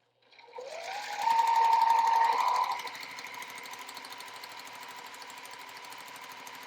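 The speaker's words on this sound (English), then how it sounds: "lay it right sides together, line it up, and then just sew a 1/4 inch seam" Sewing machine stitching a quarter-inch seam on quilt blocks, a steady fast whirring hum that swells for a couple of seconds, then settles to a softer running drone.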